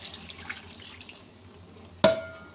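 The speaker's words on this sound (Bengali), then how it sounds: "একটু জল দিয়ে দিচ্ছি" A small splash of water is poured into a pan of aloo dum curry, landing as one sharp burst near the end after a stretch of quiet kitchen hiss.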